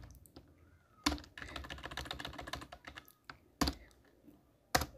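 Code is typed on a computer keyboard in quick, close bursts of clacking keystrokes, with a few louder isolated key strikes, probably the space bar or enter key, between the runs.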